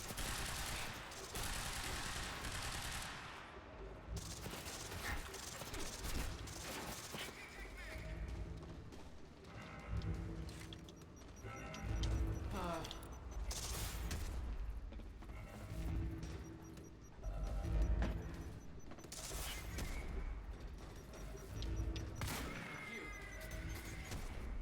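Continuous gunfire from a shooter battle in the video game Quantum Break, dense bursts and impacts running throughout alongside game sounds and occasional speech.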